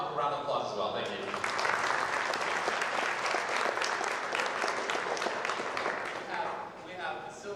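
An audience at a school poetry slam breaks into sustained applause for the performers, a dense loud clapping that swells quickly and fades slightly toward the end, with a voice audible beneath it.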